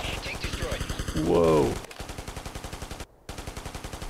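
Enemy grenade launchers in Ghost Recon (2001) firing as a steady rapid rattle of shots, with a brief whistling rise and a startled exclamation over it, then a short dropout before the firing resumes.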